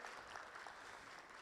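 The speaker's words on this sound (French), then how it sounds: "Sous vos applaudissements, s'il vous plaît." Steady, even clapping from an audience at a Tunisian conference session, distant and faint, with no voices over it.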